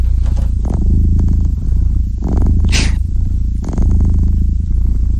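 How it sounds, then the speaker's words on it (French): A cat purrs in a close, loud, rhythmic rumble that keeps pulsing through, with a brief scrape or clatter in the middle and no speech. "C'est un ronronnement. Ouais, c'est un chat qui ronronne."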